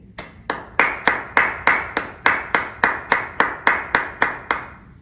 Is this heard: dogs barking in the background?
no